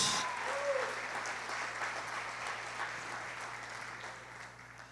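A church congregation claps for Jesus during a sermon, a sustained, even wash of applause at moderate loudness that slowly tapers off, with a steady low hum underneath.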